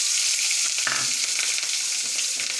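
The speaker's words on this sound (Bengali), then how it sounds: "এলাচ লবঙ্গ দারচিনি, এলাচটা ফাটিয়ে দিই, লবঙ্গটা একটু তাও ফাটে।" Bay leaf, cardamom, cloves and cinnamon crackle and sizzle in hot oil, a steady close frying hiss with scattered pops and no voices.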